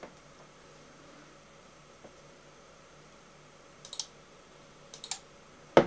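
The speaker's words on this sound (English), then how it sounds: "it's clicking when I'm connecting it" A Dusun smart socket relay gives a few faint, sharp clicks, isolated ones early and then small clusters near the end, against a quiet room hiss with no speech.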